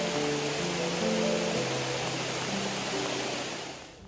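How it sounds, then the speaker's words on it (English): Heavy rain pouring down on an exposed mountain trail in the Slovenian Alps, a dense, steady hiss close to the microphone that fades slightly at the end, with faint low tonal hum underneath. "it's pouring rain"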